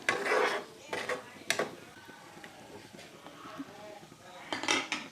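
Dorun greens with turmeric being stirred in a pan, heard as close scraping and rubbing of a utensil against metal in uneven bursts, fairly quiet, with no talking.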